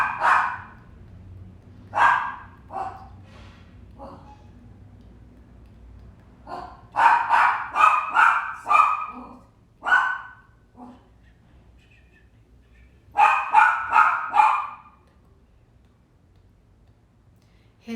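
Kiron the dog barking in several bursts of sharp, repeated barks separated by quiet pauses, fairly close and loud, with no talking.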